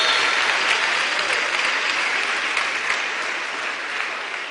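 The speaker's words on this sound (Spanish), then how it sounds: "Denle un aplauso fuerte." A church congregation at a pastors' gathering gives loud, dense applause that carries steadily throughout and fades slightly toward the end.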